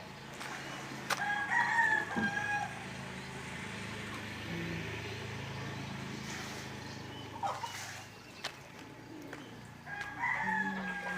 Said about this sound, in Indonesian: Itu di belakang rumah ada ayam saya